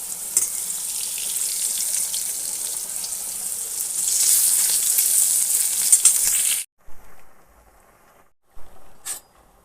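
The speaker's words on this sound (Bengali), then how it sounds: "নুন ছড়িয়ে আমি ভালো করে ভেজে নিচ্ছি" Vegetables sprinkled with salt fry in a pan, giving a loud, continuous, hissing sizzle that cuts off suddenly, followed by a few short bursts of sizzling separated by quiet gaps.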